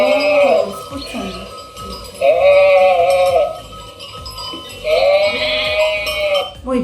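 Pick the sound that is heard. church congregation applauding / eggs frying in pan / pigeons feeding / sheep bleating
sheep bleating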